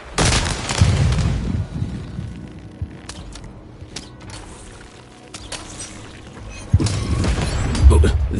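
Cannon fire in the video game Lost in Random: heavy booming blasts open and close the passage, with quieter mechanical clanks and thuds between them, all loud and close.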